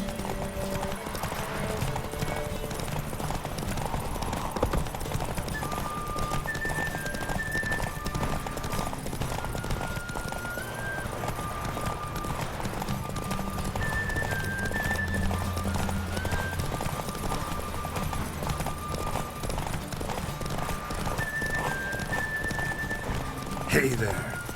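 Hoofbeats of Roach, the horse in The Witcher 3, clop in a steady galloping rhythm throughout, with music playing and a voice speaking over it.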